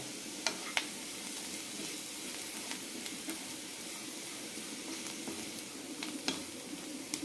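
Carrots for a carrot fry sizzle steadily in a hot pan. The spatula clicks against the pan now and then as they are mixed, close and fairly quiet, with no voices.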